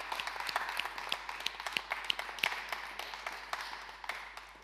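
Church congregation clapping at a Sunday harvest communion service, a fairly faint, steady patter of many hands with scattered sharper individual claps, continuing throughout with no talk.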